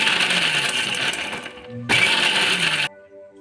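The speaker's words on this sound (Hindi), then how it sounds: "एक जार में हाफ कप नारियल और 1 इंच अदरक का डालकर इसको बारीक से पीस लेंगे।" A kitchen blender jar grinding half a cup of coconut with an inch of ginger whirs loudly and close, stops briefly, then starts again for another short burst before cutting off.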